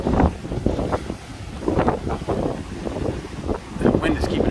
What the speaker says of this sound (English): That wind is keeping it right out of the way.